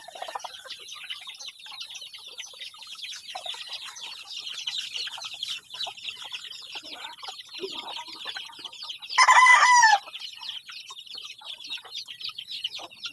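Chickens cluck and chatter continuously nearby, with a louder burst of squawking just before the end, over a faint high background hum.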